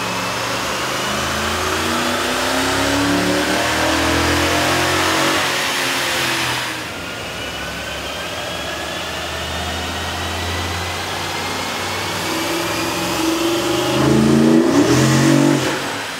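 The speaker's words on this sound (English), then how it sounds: "we ran the vehicle on the dyno to test the sound comparison versus the stock intake" A deep Toyota Tundra 4.7L V8 engine with a K&N air intake revs up and down repeatedly in long sweeps on a dyno, loud and close, with a brief dip before a final high rev.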